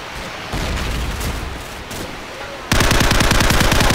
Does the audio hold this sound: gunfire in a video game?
yes